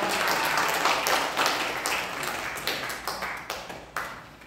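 A church congregation applauds to welcome a member during Sunday worship, starting as a full burst of clapping that thins into scattered, separate claps near the end.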